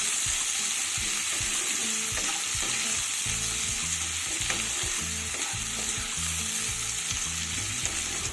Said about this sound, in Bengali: পেঁয়াজটাকে হালকা ভেজে নিতে হবে।